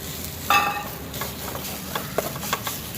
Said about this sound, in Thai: เดี๋ยวผัดเครื่องแกงให้หอมเลยนะครับ